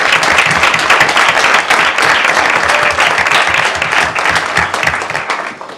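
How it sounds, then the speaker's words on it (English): A crowd of people at a city council meeting applauds steadily, with dense clapping holding for several seconds before tapering slightly at the end. "So let's give them a round of applause as well."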